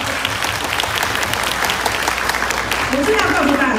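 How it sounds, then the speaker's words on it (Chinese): An audience at a Kaohsiung hotpot award ceremony claps in steady, loud, close applause that lasts throughout, with a voice speaking over it toward the end. "掌声鼓励"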